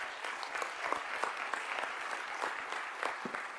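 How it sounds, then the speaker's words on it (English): Applause from a school board meeting audience honoring an employee of the year, steady clapping throughout at moderate distance with no talk over it. "I'd love to give him a round of applause because he does a tremendous job"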